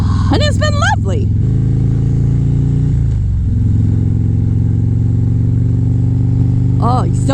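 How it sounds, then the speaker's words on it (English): A loud motorcycle engine with a deep Harley-Davidson-like rumble drones steadily up close throughout, its pitch dipping briefly midway, while a voice talks over it at the start and again near the end. "it sounds like a Harley-Davidson, but it really does not shake the walls"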